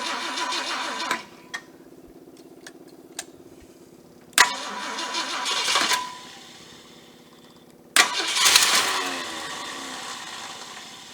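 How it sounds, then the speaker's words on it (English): A cobbled-together 390 V8 engine with a massive vacuum leak and bad manifold leak cranks roughly on its starter in three bursts, each a loud, harsh grinding whir that cuts off abruptly, with sharp clicks and quiet gaps between attempts. "Starter sounding rough."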